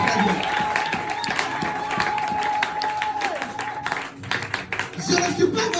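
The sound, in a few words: congregation applauding and cheering Jesus at a church seminar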